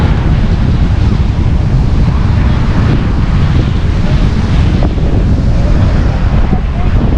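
High-tide ocean surf at Baga Beach, Goa, a loud continuous roar of waves heavily buffeted by wind noise on the microphone.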